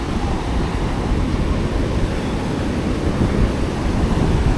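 Ocean surf washes continuously onto a beach, a steady broadband roar with gentle swells and some wind buffeting on the microphone, with no voices.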